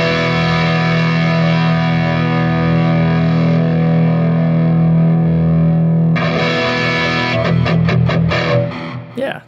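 Electric guitar through a Black Country Customs Monolith drive pedal: a loud, thick, saturated chord sustains, then gives way to a quick run of choppy, rhythmic distorted strums that cut off at the end, with no talking.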